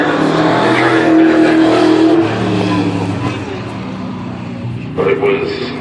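Stock car racing engines roar during a practice session, a loud sustained drone with a passing pitch that fades toward a distant hum, under an announcer's commentary.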